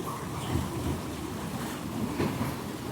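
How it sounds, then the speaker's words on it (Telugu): A water wheel at a village paper mill near Samarkand, Uzbekistan, spins fast under a strong flow of water, giving a steady, dense rush and churn with slight surges, close and continuous throughout. "ఆ వాటర్ వచ్చే ఫోర్స్కి ఈ చక్రం ఎంత ఫాస్ట్గా తిరుగుతుంది."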